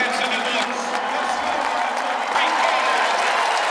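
Syracuse fans rise and applaud at a college lacrosse game against Princeton, a broad, sustained crowd roar and clapping heard at a distance beneath a broadcast commentator's voice.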